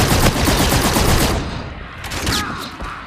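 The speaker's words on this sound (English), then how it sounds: "like the gun I'm using, which uses energy-based bullets" Rapid bursts of energy-based gunfire from the Call of Duty: Infinite Warfare beta, a loud, dense volley for about a second and a half, then thinner scattered shots and a faint electronic whine as the firing tails off.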